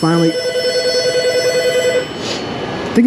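A telephone rings in an auto repair shop, clear electronic ringing tones fairly close, followed by a quieter stretch of shop background noise.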